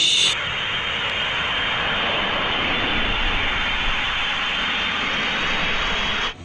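A US Air Force military airplane produces a loud, steady broadband jet roar that holds close and even for several seconds before cutting off abruptly.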